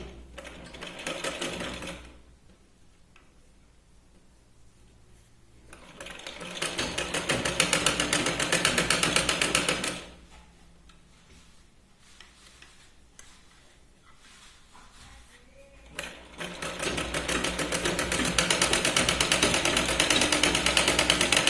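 A sewing machine stitches the lining of a katori blouse in three bursts of rapid mechanical whirring, separated by quiet pauses, close and alone.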